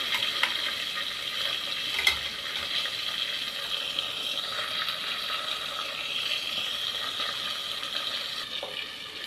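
Oil with half a spoon of butter heating in a pan as the base for a chilled milk vermicelli dessert, giving a steady close sizzle and crackle with a few faint clicks, no voices.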